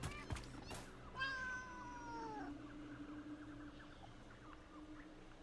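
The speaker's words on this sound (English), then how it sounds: "I've never heard that meow before" A single drawn-out, wavering cat meow rises and then falls over about a second, clear above a low steady hum, with a few soft knocks just before it.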